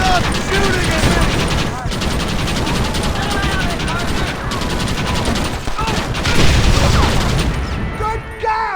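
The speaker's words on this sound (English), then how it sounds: "Stop shooting at me!" Dense, sustained gunfire from a Red Dead Redemption shootout, with overlapping shots and bursts rattling on loudly for the whole stretch, mixed with other game sounds and voices.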